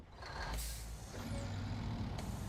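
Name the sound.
trucks with air brakes and reversing beeps in a video game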